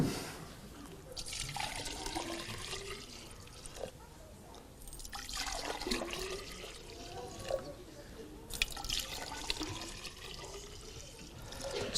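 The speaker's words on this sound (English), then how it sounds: "every time I pour out the liquid" Liquid pours out of a vessel in a chemistry demonstration, splashing and trickling in several separate pours with brief gaps between them, close and moderately loud.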